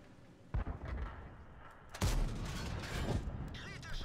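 Repeated cannon fire from tanks in the World of Tanks video game, with the 10.5 cm gun on a Sav m/43: sharp booms near 0.6, 2.0 and 3.2 seconds over a steady rumbling battle background.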